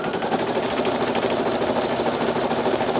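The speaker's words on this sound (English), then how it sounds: "that arm is going to move back and forth depending on where it's stitching" A Brother Innov'is NQ1600E embroidery machine stitches continuously, a dense rapid mechanical rattle at close range with a steady level and no pauses, as the embroidery arm moves back and forth.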